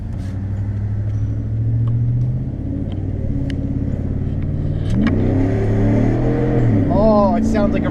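Chevrolet Silverado truck with a 5.3 V8 and Gibson cat-back exhaust accelerating: a loud, deep, steady rumble that swells twice as the revs climb, heard close.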